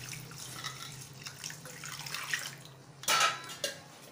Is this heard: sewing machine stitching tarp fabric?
no